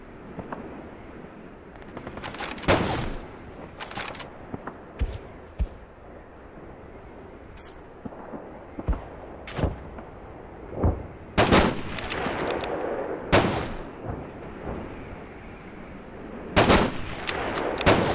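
Gunfire in the World War II shooter Call of Duty 2, with bursts of rifle and machine-gun shots cracking out irregularly over a constant battlefield rumble, some shots close and sharp, others more distant.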